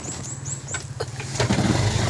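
A motorcycle engine turns over and catches, then settles into a steady low idle rumble, close and fairly loud, with no talking.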